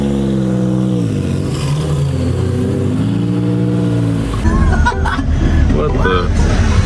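A Noble supercar engine rises from a low idle into a climbing rev, with strong harmonic sweeps up and down before a rougher, noisier stretch. The scene is a busy street in downtown San Francisco, and there is babble and talk around it.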